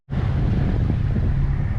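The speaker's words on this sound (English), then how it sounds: "the afternoon breeze is starting to come up a little bit here in Hurricane Gulch" Wind buffeting a microphone aboard a sailboat off the Southern California coast near Angel's Gate, a steady, loud low rush.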